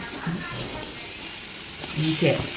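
Dry pepper chicken with curry leaves and coriander leaves is stirred in a hot pan, sizzling steadily with scraping stir sounds and a short murmur of voice near the end.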